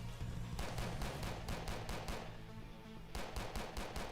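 Rapid bursts of gunfire from a video game shooter, several rattling volleys in quick succession with a short lull before firing resumes, loud and continuous over a steady low hum.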